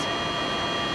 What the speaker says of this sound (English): Excuse the noise, we are in fact kilning at the moment.